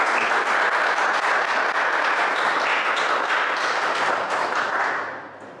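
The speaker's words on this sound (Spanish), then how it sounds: "Un héroe, un aplauso, por favor," An audience applauds during a talk on current cinema at a Murcia film convention. The dense, continuous clapping is fairly loud and fades out over the last second, with no speech.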